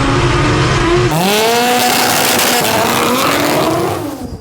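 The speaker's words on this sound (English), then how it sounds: "I think we're gonna finally fire my brother's car up for the first time." A 1000hp all-wheel-drive race car engine fires up for the first time, turning over then catching into a loud, close, rough idle that revs and wavers for a few seconds before cutting out abruptly.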